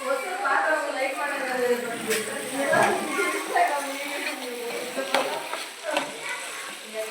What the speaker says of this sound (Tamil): நல்லா கிண்டி விடணும். கிண்டி விட்டுக்கிட்டே இருக்கணும், இல்லைனா அடி பிடிச்சிக்கும்.